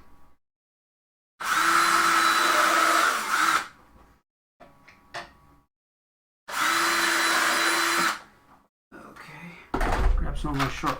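A power drill drives screws into a wooden bird cage stand in two loud, steady whirring bursts of about two seconds each, with short clicks and handling noises between them.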